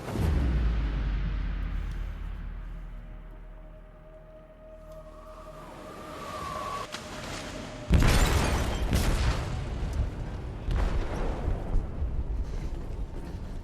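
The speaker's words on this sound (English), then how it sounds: "They detonated an explosive in the hold." A deep explosion rumbles through a ship's hold in Detroit: Become Human, starting as a low drawn-out groan and tonal creak, then breaking into a loud burst of debris and crashing that continues to the end.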